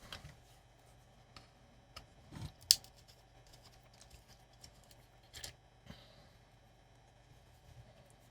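Scissors snip off the excess dial cord while a Hacker Hunter RP38A transistor radio is being repaired. A few soft cuts and small ticks sound up close against a faint background hum, with one sharper snip in the middle.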